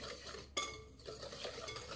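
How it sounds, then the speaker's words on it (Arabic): Cake batter with added cocoa being stirred in a bowl, giving soft, faint scraping and swishing with a brief clink of utensil against the dish, close and quiet with no voices. "ونضيفو الكاكاو. غادي نحركو هاد الخليط مزيان."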